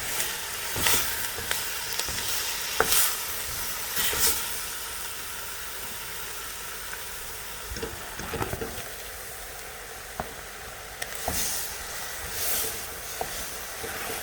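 Ground beef frying in a pan with softened onions and garlic for lasagna and meatball prep, a steady low sizzle and hiss broken by occasional spoon scrapes and stirring knocks, with no talking.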